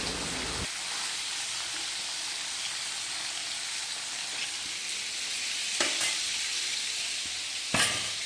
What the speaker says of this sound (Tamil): மீதி எல்லா வேலையுமே முடிஞ்சிட்டு மீன் மட்டும்தான் பொரிச்சிட்ருக்கேன்